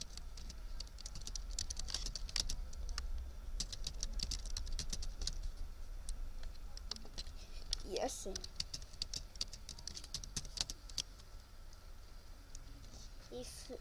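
Fingers tap out an email and password on a computer keyboard in quick, uneven clusters of light clicks, close and quiet, while a voice speaks briefly midway.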